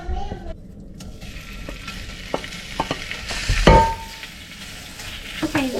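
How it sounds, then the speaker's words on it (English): Ham browns in a skillet with a steady close sizzle and crackle, broken by scraping and clinking as the meat is stirred and turned. A few sharper knocks stand out near the middle. "I'm going to fry up some of this ham, get it browned on both sides"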